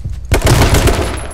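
Video game gunfire erupts after a brief quiet moment, a loud, rapid burst of automatic shots that rattles on for about a second, close and dominant.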